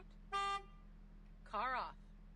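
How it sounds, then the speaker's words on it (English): A car horn gives two short honks, a clean toot followed by a wavering second blast about a second later, moderately loud over a quiet background. "you have to honk your horn"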